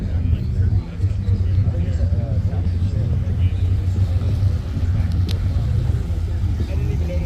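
Race cars at Coos Bay Speedway give a steady low engine rumble throughout, heard beneath someone talking close to the microphone.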